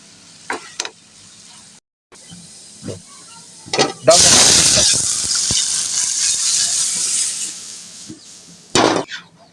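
Taro stolons stirred with spices in a hot pot, a burst of loud sizzling and hiss after a few scattered clatters of the spoon against metal, then fading back to intermittent taps.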